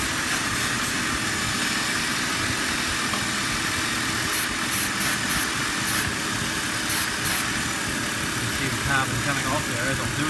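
A car engine idles steadily and close by during throttle body cleaning, with short hissing bursts of cleaner spray over the constant rumble.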